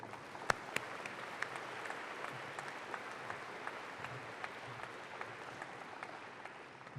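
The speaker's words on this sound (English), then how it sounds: "A big round of applause for Di." A conference audience at an opening plenary session applauds steadily, a continuous even patter of many clapping hands heard from some distance at moderate level, without speech throughout.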